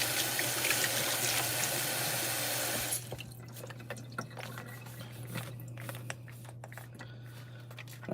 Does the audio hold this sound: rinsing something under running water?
yes